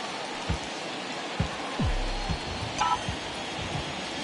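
Heavy rain falling steadily on a baseball game in MLB 2021, a dense, constant hiss with a few soft low thumps and a brief faint tone, no talk.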